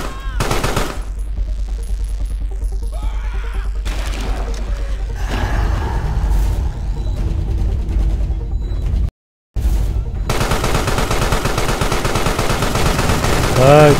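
Rapid automatic gunfire and bursts of shooting in an armored warfare video game, loud and nearly continuous, with a brief dropout before the firing resumes; a player's voice talks over it.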